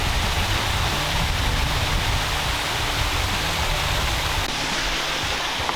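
A waterfall pours into water where a crocodile sits beneath it, a steady broadband hiss and rush with low rumble, continuous and moderately distant, with no voices.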